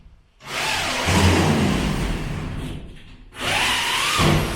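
A power drill driving screws to attach the last piece of cement board in a storeroom under construction, two loud sustained whirring runs separated by a short pause, close by with no voices.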